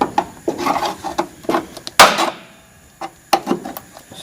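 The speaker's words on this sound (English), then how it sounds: "Take your screwdriver, stick it in there." A screwdriver pries and scrapes at loose rusted metal on an old car body during rust repair, with a series of close, sharp scraping and clanking bursts and pauses between them.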